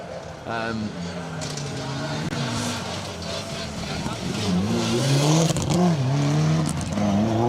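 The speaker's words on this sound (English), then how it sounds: "Definitely the 3rd time we've seen that Darien GTR go through" A Darien GTR rally car drives through a stage at the Alan Healy Memorial Rally, its engine revving and rising in pitch as it passes nearby, with a commentator talking over it.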